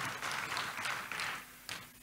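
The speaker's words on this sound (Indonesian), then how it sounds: "Tepuk tangan dulu buat Tuhan Yesus." A church congregation clapping for Jesus, a soft, fairly distant round of applause that comes in bursts and fades out over about two seconds.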